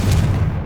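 A Confringo spell blast in Hogwarts Legacy lands as a short, heavy booming burst, loud and close, with a deep low rumble that fades quickly.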